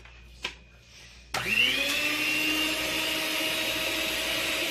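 An electric hand whisk whirs steadily through butter frosting made with icing sugar and almond essence, starting abruptly after a short quiet pause and holding a loud, even motor drone close by.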